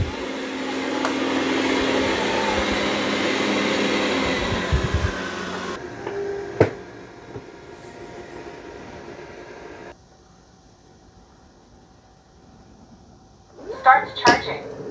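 A Dreame self-emptying robot vacuum runs across carpet with a steady, whirring motor drone that shifts and drops away, followed by quieter hum and a few clicks and beeps near the end.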